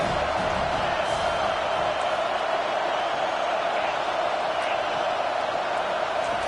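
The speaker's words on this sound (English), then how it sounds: "Decibels rising as the crowd gets behind this defense on 3rd down." Football stadium crowd at a USC college game, a loud continuous roar swelling steadily as the defense lines up on third down.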